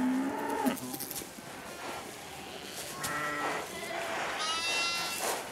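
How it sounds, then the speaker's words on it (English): Sheep bleat repeatedly in a farm setting with other livestock, several wavering calls overlapping near and far across a noisy outdoor background. "He must hear and smell the sheep day and night."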